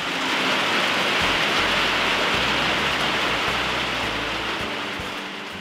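Heavy rain pours down steadily in a dense, loud hiss, easing slightly toward the end, with no voices.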